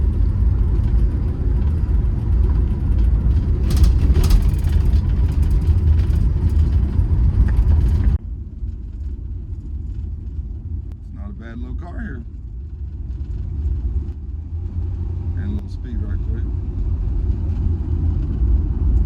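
A 1968 Pontiac GTO 400 four-speed convertible, a classic car, drives with its engine in a low steady rumble that drops suddenly in level partway through. Someone talks over it at intervals.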